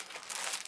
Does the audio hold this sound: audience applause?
no